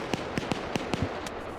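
Machine gun fire in the Arma video game, aimed through trees: about seven sharp, evenly loud shots in a short, slightly uneven burst over a steady background hum.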